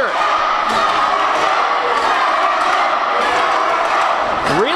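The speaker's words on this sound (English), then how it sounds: "The crowd playing a little bit of mind games with Jimmy Karryt." Dense wrestling arena crowd roars and jeers in a steady, loud wash, with scattered whoops and shouts rising from the mass of voices throughout.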